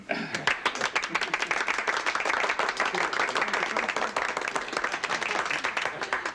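An audience at a stage show applauds, with dense, close clapping that starts abruptly and continues steadily, with some voices mixed in.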